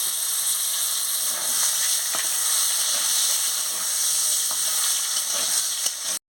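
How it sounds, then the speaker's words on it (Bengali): Potatoes fry in hot oil in a pan after aubergine, giving a loud, bright, continuous hiss and sizzle with faint occasional stirring taps, steady throughout before cutting off abruptly. "এবার আমি আলুটা দিয়ে দিচ্ছি আলুটাকে ভালো করে একটু ভেজে নিচ্ছি"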